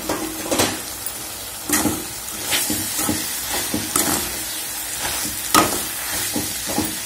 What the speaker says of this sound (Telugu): మనం వేయించి పెట్టుకున్న కాకరకాయ ముక్కల్ని ఇప్పుడు యాడ్ చేసుకుందాం